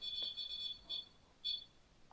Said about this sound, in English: Can you step away from that to make it stop beeping for me?